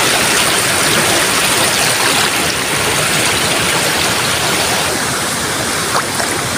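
Rising floodwater rushes by in a loud, steady broadband roar, constant and close, with no voices over it.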